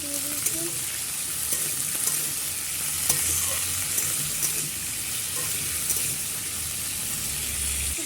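Okra and potato fry in a pan with a soft, continuous sizzle, punctuated by light scrapes and clicks of stirring at a moderate distance.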